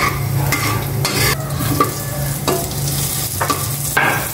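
Garlic sautéing in a pan at home, with steady close sizzling and scraping strokes of a spoon stirring through it, loud and continuous with no talking.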